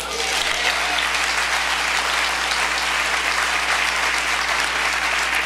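Loud, dense applause from a large audience at a gala, a continuous roar of clapping that holds steady from start to finish.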